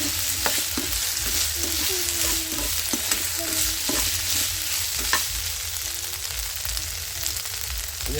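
Diced onion and capsicum sizzle steadily in a pan for chilli paratha, with a constant bright frying hiss and periodic scrapes and clinks of a spatula stirring.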